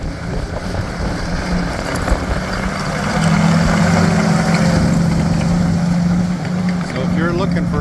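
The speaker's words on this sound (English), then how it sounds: "A little windy, so I might have to yell into the camera here." Wind buffets an outdoor camera microphone in a steady, rough roar that grows stronger partway through, with a low engine idling underneath.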